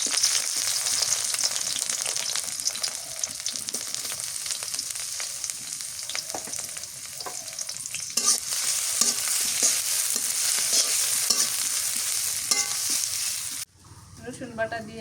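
Chopped onions frying with bay leaf and whole spices, a dense close sizzle with frequent stirring scrapes and knocks throughout, then cutting off abruptly near the end to quieter rustling.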